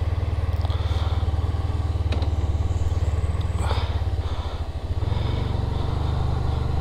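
A Triumph Speed Twin 1200 motorcycle engine idles with a steady, loud, throbbing pulse close by. A voice speaks faintly over it, and the rumble dips briefly before settling again.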